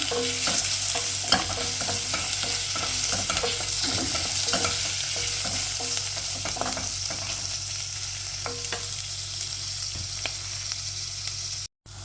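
Misua soup with meatballs or chicken balls being stirred in a pot: a steady simmering hiss with repeated scraping clinks of a spoon against the metal, close and continuous, no voices.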